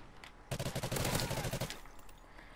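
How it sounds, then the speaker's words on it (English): Rapid bursts of assault rifle fire in a first-person shooter video game, a dense rattling volley lasting about a second amid game ambience, with no one talking. "Absorbing bullets!"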